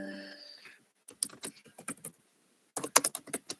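Several short bursts of clicky keystrokes on a computer keyboard, quiet and fairly close, in two quick clusters separated by a pause, following a faint fading tone at the start.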